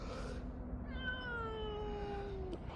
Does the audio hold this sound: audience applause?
no